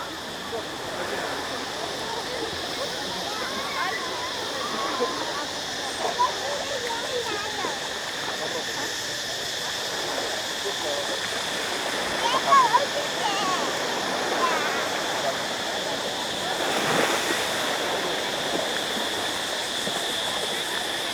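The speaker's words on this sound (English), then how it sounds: "It is a really, really pretty beach." Waves wash steadily onto the sand at Yanui Beach in Phuket, a continuous broad rush of surf with small splashy swells, close and fairly loud throughout.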